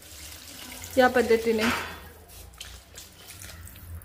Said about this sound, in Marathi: मी पाणी आता व्यवस्थित ऍड करून घेते